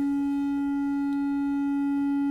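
Triangle wave from a K3020 dual VCO synthesizer module: a steady, sustained tone with a strong fundamental and faint odd harmonics, holding one pitch at a constant level throughout with no other sounds.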